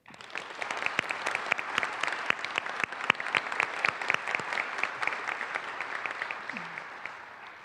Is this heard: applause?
yes